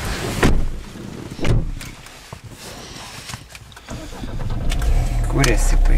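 Engine of a 2005 Peugeot 407 diesel cranking and catching, then settling into a rising idle, preceded by a couple of loud door or handling thumps inside the car.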